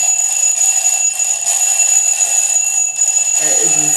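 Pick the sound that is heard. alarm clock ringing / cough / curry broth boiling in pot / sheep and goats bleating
alarm clock ringing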